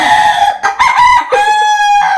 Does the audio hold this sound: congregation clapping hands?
no